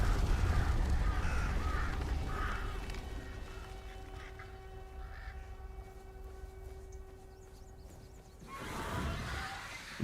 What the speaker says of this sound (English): Fucking bird.